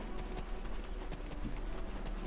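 Horse hooves clip-clopping steadily in the Black Desert Online video game, a quick even trot of soft thuds over continuous ambient game noise, moderately quiet, with no speech.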